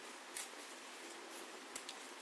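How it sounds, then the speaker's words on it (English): Scissors snip through ribbon for a cheer hair bow, with a few quiet, sharp cuts at irregular intervals over faint steady background hiss and no talking. "grab your scissors and you just cut from here to there"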